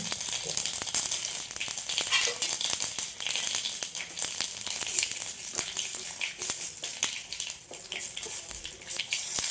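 Dried red chillies sizzle with cumin seeds in hot oil, a bright, steady hiss peppered with quick crackles and pops, close up.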